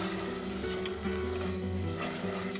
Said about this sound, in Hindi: इसमें हम डालेंगे 1 बारीक कटा हुआ प्याज। इसको अच्छे से मिक्स कर लीजिए ताकि आपका प्याज हल्का सा ब्राउन हो